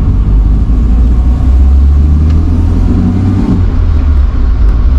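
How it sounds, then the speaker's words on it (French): A BMW E36 engine runs steadily with a loud, close low rumble and a slight dip in intensity partway through, with no voices. "le moteur il tourne salement bien"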